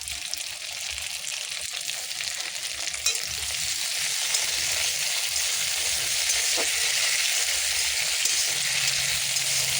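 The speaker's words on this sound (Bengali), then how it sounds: "টমেটো কাঁচা লঙ্কা একসঙ্গে দিয়ে দিলাম।" Tomatoes and green chillies sizzle and fry together with onions in a pan for a chicken dish, a steady loud crackling hiss with a brief stir noise near the start, no talking.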